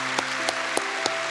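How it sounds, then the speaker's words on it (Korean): A church congregation claps in welcome of new members, a steady wash of applause punctuated by a few sharper, evenly spaced claps standing out close by. "박수로 환영합니다."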